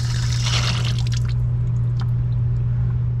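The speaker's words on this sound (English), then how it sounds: "Let's open this one up and drain the remaining water." Muddy leftover water drains from an opened strainer on a water source heat pump, giving soft trickling and dripping sounds over a steady low mechanical hum, with no talk.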